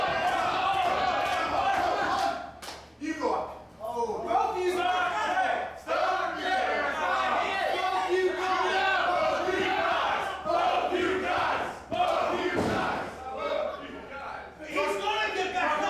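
A wrestling crowd at a Wrestling's Bloodiest Wars show roars and chants continuously, loud and close, with shouted voices, brief dips and swells, and a sharp impact near the end.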